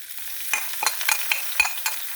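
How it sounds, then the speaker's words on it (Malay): Chopped garlic, bird's eye chili and curry leaves stir-fried in a wok with steady soft sizzling and several sharp scrapes and stirs of a spatula, close and without talk. "Kita tumis bahan-bahan ni sampai dia naik bau"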